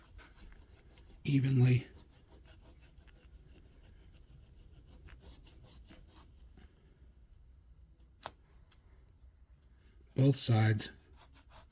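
Grit-embedded rubber eraser rubbed over a Rizzuto Estileto knife blade, two short close rasping scrubs far apart with faint stillness between, a person speaking quietly in the gap.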